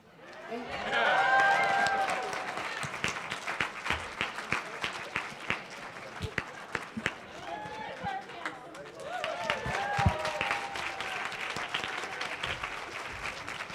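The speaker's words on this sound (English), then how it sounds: "huge round of applause, everyone, for our amazing panel" Audience applause for a panel at an anniversary celebration, a crowd clapping with cheers and whoops, swelling early, easing, then rising again with scattered voices mixed in.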